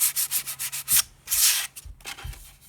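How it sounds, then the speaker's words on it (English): Light sanding strokes rub across the edge of a rustic wooden flag, a quick series of close, rhythmic scrubbing passes with brief pauses between bursts. "Again, very lightly sand will catch this edge."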